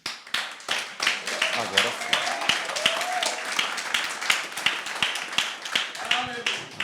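A church congregation at a Sunday morning service claps steadily for Jesus, many hands in a brisk, rhythmic flurry that runs throughout, with a voice speaking briefly over it.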